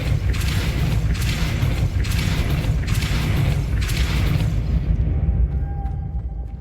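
Depulso spell cast in Hogwarts Legacy, a run of loud booming thumps in steady pulses that fade into a quieter ringing tail.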